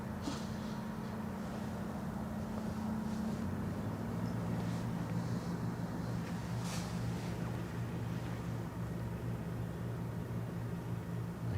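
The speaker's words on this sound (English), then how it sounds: "I hear a boat, but I don't see it." A ship or boat out on the Westerschelde gives off a low, steady engine drone from a distance. Wind and broad ambient noise run over it, and the hum shifts slightly in pitch midway.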